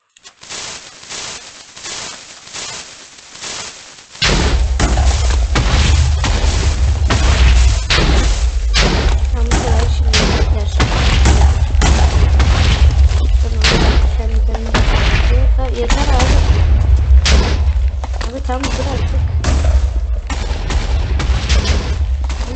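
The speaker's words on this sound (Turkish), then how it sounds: "Ya hala patlıyor." Video game explosions on a Minecraft survival server boom in a dense, loud barrage, thudding almost continuously after a quieter opening with lighter pops.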